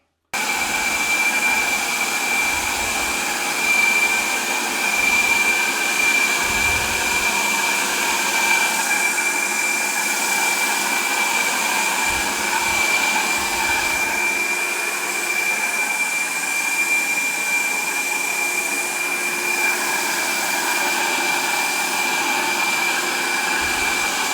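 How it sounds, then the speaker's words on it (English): A pump runs with a steady, loud whirring rush as it inflates to lift a refrigerator out of its cabinet in a kitchen, holding a constant drone with a high whine throughout. "we use this to pump the fridge up so I can get it out."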